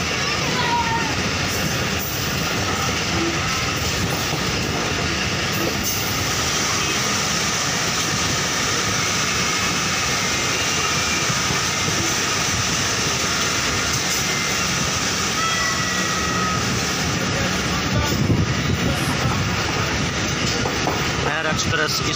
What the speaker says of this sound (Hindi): महर एक्सप्रेस इस वक्त कोटादू शहर की हदूद से गुज़र रही है